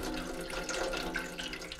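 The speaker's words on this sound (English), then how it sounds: "All right, we're beginning to drain." Water drains steadily from a cut heating pipe into a pan during a fan coil unit zone valve replacement, a faint continuous splashing trickle with no talk.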